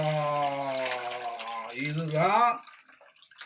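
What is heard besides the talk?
mutton curry mixture poured into hot clay pot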